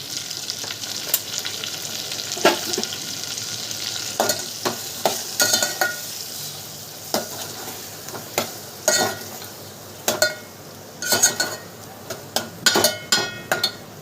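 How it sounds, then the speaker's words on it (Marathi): Turmeric and red chili powder sizzle in hot oil over stuffed eggplant, with a steady frying hiss broken by repeated sharp stirring scrapes and clinks of a utensil in the pan. "हळद टाकते तेलामध्ये थोडंसं लाल तिखट पण टाकते"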